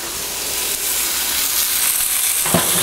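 A steak sizzles and spits steadily in a hot pan just after being flipped, a continuous close hiss with a brief clatter near the end and no voices.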